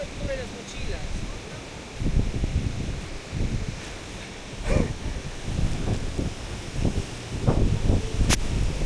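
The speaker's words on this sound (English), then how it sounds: "This is the wind" Strong wind buffets a hiking trail to Gocta Waterfalls in Peru, roaring and rustling steadily against the microphone throughout, with brief gusts and occasional knocks.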